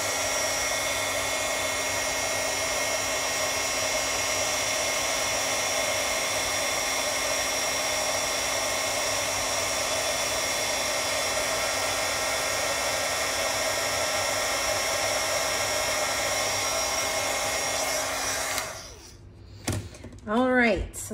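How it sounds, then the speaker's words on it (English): A handheld craft heat tool blows hot air steadily to melt white embossing powder, a loud continuous whirring roar that runs unbroken for most of the stretch before cutting off, followed by a few brief knocks. "grab your heat tool. And mine is right here. And hit it until it turns bright white."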